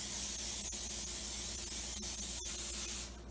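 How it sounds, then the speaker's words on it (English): Oil spray hisses steadily from a can onto baking tins for egg tarts, a continuous close spray lasting a few seconds before cutting off abruptly. "Spray the tins."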